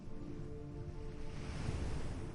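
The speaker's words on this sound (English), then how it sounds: "The sea continues breathing below. A wave rises, reaches the shore, and returns again." Ocean waves wash steadily against the shore, a continuous full surge with a light wind-like hiss, close and even in level with no voices.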